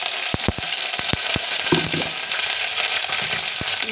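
Curry leaves dropped into hot oil for a fish curry crackle and sizzle loudly, with sharp pops and spits in quick bursts over a constant frying hiss.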